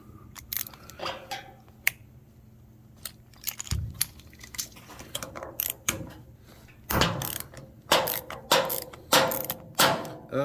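A 9/16 wrench loosens the bottom nut of a Generac RS8000E generator carburetor, giving scattered metallic clicks, ratcheting snaps and clinks at close range.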